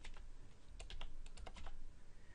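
Code being typed on a computer keyboard, a quick uneven run of close, crisp key clicks with a few louder strokes, alone with no talk.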